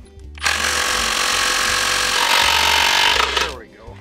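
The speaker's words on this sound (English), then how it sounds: "We've removed the bolt that holds the sheaves together." A power tool buzzes steadily for about three seconds while removing the bolt that holds the clutch sheaves together, starting and stopping abruptly, close and loud.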